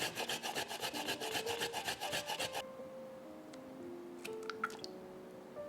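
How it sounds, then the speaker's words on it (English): A carrot rubbed against a grater into a bowl, a quick rhythmic series of rasping scrapes for a few seconds, then quieter kitchen sounds with faint light clinks. "Into the bowl, grate carrot, about 1 tablespoon."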